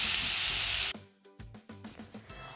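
Onions hitting hot oil in a pan for momo stuffing: a loud, steady sizzle that cuts off abruptly, followed by softer stirring and bubbling with intermittent scrapes.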